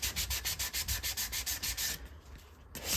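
Aluminum is rubbed and polished by hand in quick, even back-and-forth strokes, a close rhythmic scrubbing that pauses briefly before resuming, with no talking.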